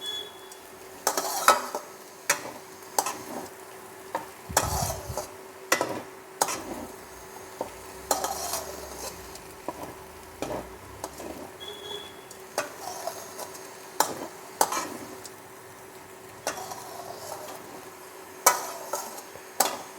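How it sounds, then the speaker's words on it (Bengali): Sago (sabu) is stirred with vegetables in a pan, a low sizzle under repeated scraping and clinking spoon strokes at an uneven rhythm, close by with no talking. "আমি সাবুগুলো দিয়ে কিন্তু ভালো করে নাড়িয়ে যাচ্ছি সমানে।"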